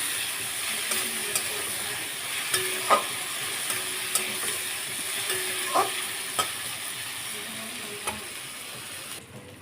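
Potatoes fry in a pan for a potato and lentil dish while a spoon stirs them, giving a constant soft sizzle with occasional sharp scrapes and taps of the spoon against the pan, no talk.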